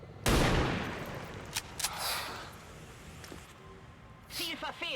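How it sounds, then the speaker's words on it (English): A single sharp sniper rifle shot from the video game XCOM 2 cracks out loudly, followed by a decaying tail and a few fainter game sound effects, with a voice speaking over it. "I'm shooting with a sniper rifle"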